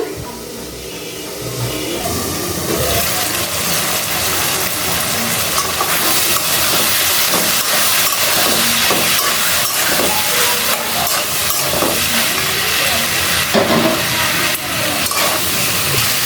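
Pumpkin cooks in hot oil in a pan, giving a loud, close, steady sizzle and hiss that holds without break throughout, with faint stirring beneath.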